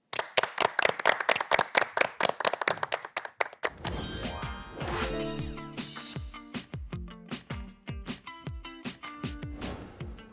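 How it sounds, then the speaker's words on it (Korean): An audience at a science lecture concert claps to welcome a professor, a quick rhythmic burst of hands that ends after a few seconds before musical tones ring out and carry on. "기석철 교수님을 박수로 맞이합니다"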